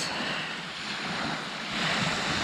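Sea waves wash steadily onto the shore at Sarti on the Greek coast, a continuous broad rush with some wind noise, swelling slightly louder toward the end, with no voices.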